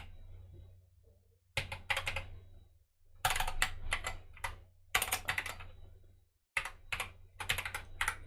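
Computer keyboard typing with an English layout, rapid clustered keystrokes in several bursts separated by short pauses, close and crisp over a low background hum.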